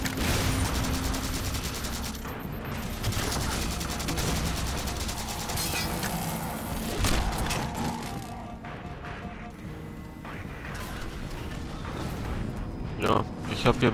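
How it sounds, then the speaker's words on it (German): Rapid bursts of gunfire from the video game Halo 4, dense and continuous across the whole stretch, with a voice speaking over the shooting. "Aber ich werde hier trotzdem irgendwie beschossen von irgendjemandem von hinten."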